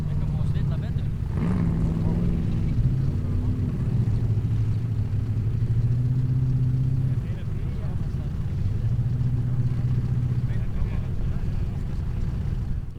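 A formula offroad car drives over rock and then into loose sand at an Icelandic Formula Offroad event in Hella, its engine a steady, droning rumble heard beneath continuous commentary.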